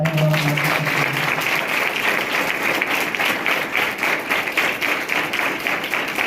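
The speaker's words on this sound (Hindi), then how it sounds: "एक बार जोरदार तालियां।" Strong, steady applause for students at a school felicitation ceremony honoring national medal winners. Many hands clap in a fast, even rhythm that holds at full volume throughout, with a brief tone at the very start.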